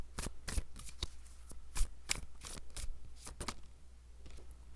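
Tarot cards shuffled by hand in a quiet room, a run of crisp riffling flicks and soft slaps coming in quick irregular bursts, close and moderately quiet, with no talking.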